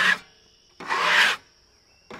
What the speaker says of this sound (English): Let's get this sawdust off.